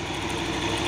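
A tanker truck engine idles steadily close by, a continuous low diesel rumble with an even mechanical vibration and no voices over it.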